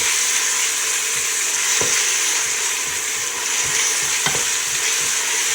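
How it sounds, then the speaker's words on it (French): Minced meat for samosa filling, mixed with blended green spices, stirred in a hot pan: a loud, continuous close-up sizzle hisses throughout, with two distinct scrapes of the spoon and faint utensil movement beneath, no voices. "Voilà, je mélange. Il faut bien le mélanger."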